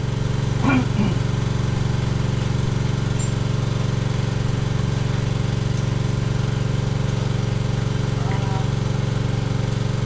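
Grass cutter running close by, a loud, steady droning engine with a buzzy mechanical tone held without a break for the whole stretch.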